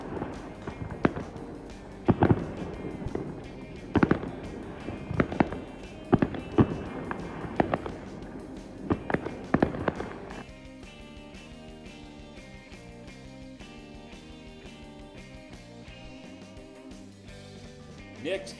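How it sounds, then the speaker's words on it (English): Fourth of July fireworks burst over Buckeye Lake in a run of sharp bangs and crackles for about ten seconds, then give way to music. "It was topped off with a fireworks show."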